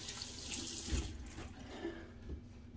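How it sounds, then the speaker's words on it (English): Tap water running into a bathroom sink while wetting the face before a shave, a steady close splashing flow with small disturbances as hands move through it. "Add a little bit of water to the face."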